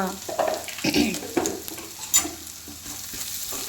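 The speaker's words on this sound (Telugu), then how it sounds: "అల్లం వెల్లుల్లి పేస్ట్ వేగిపోగానే" Ginger garlic paste fries in a pan, a close crackling sizzle with stirring scrapes that fades toward quieter sputters by the end, no voices.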